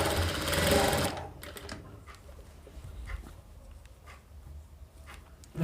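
Sewing machine stitching the seams of a princess cut blouse, a loud steady run at first, then fainter intermittent stitching with small clicks and handling noises.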